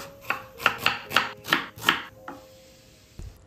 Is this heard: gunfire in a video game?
no